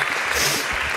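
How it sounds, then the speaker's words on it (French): Audience clapping for young award winners of a French digital talent event called onto a stage, a brief dense burst of applause, close and loud. "On peut les applaudir."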